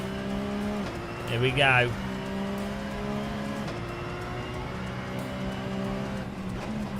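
Race car in the Assetto Corsa sim with a steady droning engine note, a brief rising rev burst near the start, then held gears with a shift, while someone speaks briefly over it.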